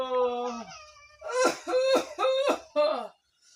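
A voice talks briefly, then four harsh, explosive coughs come in a quick, regular series, fairly loud and close.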